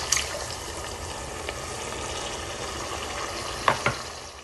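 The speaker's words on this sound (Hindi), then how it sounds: "अब मसाला बन गया है तो अब मैं यखनी इसमें ऐड करूँगी।" Chicken yakhni stock is poured into frying masala in a pan, giving a steady close sizzle and bubbling hiss with a couple of brief clinks near the end.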